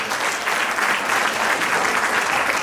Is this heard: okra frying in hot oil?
no